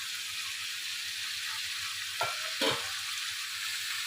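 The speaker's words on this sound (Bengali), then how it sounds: "এখন আমি কেটে ধুয়ে রাখা বরবটি আর আলুটা এর মধ্যে দিয়ে দেবো।" Long beans and potatoes hit hot tempered oil in a pan, giving a steady, soft sizzle with two brief louder clatters as the vegetables are added and stirred.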